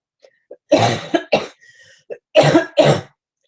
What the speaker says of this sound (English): hold on, I'm going to cough